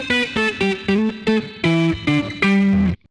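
A distorted electric guitar plays a short run of picked notes, then a few sustained chords ringing out before cutting off abruptly.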